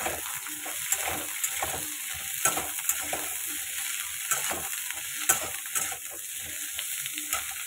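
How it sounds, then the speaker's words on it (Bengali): Brinjal, pumpkin and drumstick pieces frying in a pan, giving a continuous sizzle broken by repeated stirring scrapes and clinks at a steady pace, close and with no talk. "এরকম বেগুন, কুমড়ো আর ডাঁটা এগুলো একটুখানি আগে ফ্রাই করে নেব"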